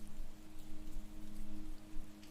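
Steady rain falls on a muddy path in the countryside of old Japan, a soft continuous patter with a faint low hum underneath.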